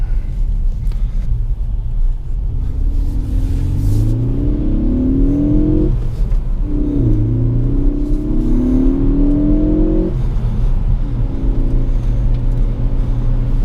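A 2017 Ford Focus ST with a six-speed manual is floored in third gear on a slushy road, its engine droning loudly as the revs climb and dip twice. A heavy road and tire rumble runs beneath it from inside the cabin.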